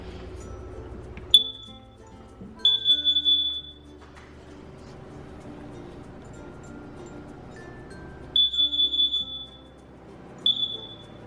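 Carbon monoxide alarm under test, sounding in short bursts of shrill high beeps separated by quieter pauses, with faint background noise between.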